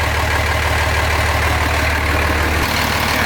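A Cummins diesel engine idles steadily in a Ford F-350, with a loud, continuous low rumble and a fast, even mechanical beat throughout, no voices.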